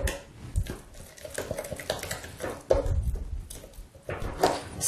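Ricotta and tuna dip being stirred by hand in a bowl, with scattered scraping and clinking of a spoon against the dish, irregular and close, with no talk.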